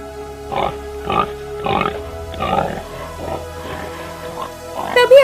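Repeated grunts from a wild boar in a Hindi cartoon forest hunting scene, about six rough bursts in a steady rhythm, loud and close with no talking over them.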